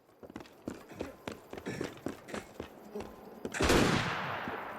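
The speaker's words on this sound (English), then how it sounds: "Oh boy, somebody shooting you" Gunfire in the game Assassin's Creed Unity, a string of sharp shots cracking in irregular rhythm at moderate volume, ending in a louder, sustained blast of noise.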